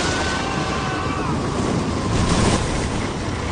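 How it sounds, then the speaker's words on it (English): A huge breaking wave slams into the hull of the yacht Stand Aside as it sails beam-on under a storm jib in a violent storm. A dense roar of wind and surging water fills the clip, swelling briefly near the middle. "A huge breaking wall of water, 28 meters high, slams into the side of the hull."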